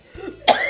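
A single short, sharp cough, close and loud, preceded by a faint throaty breath.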